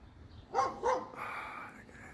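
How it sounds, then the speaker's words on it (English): Two quick, sharp dog barks close together, followed by a softer, drawn-out tone that fades away. "These dogs wake me up every day."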